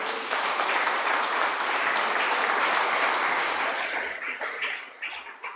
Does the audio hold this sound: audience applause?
yes